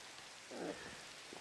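Rain falls in the video game Wild Odyssey as a faint, steady patter with a brief low rumble partway through.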